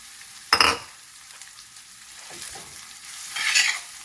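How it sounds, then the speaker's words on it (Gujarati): Finely chopped fenugreek leaves sautéing with ginger, garlic and chilli for methi thepla: a faint low sizzle broken by two sharp stirring scrapes, one early and one near the end. "મેથીને સરસ સાંતળી લઈશું"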